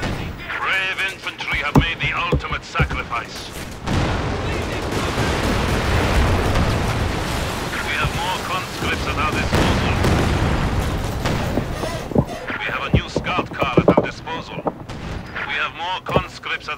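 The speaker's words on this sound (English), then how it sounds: "Bombard this building!" Artillery pounds a building in Company of Heroes 2, with heavy booms and scattered gunfire rumbling through a long stretch, while voices talk intermittently over the barrage.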